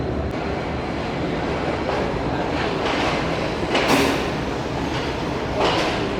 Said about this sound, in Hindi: गाड़ी निकल रही है फैसलाबाद रेलवे स्टेशन से